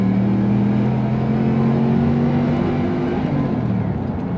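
A Toyota Hilux pickup with a swapped-in 3UZ-FE V8 accelerates hard in second gear, its deep engine note climbing steadily and loudly, close by, then easing slightly at the end.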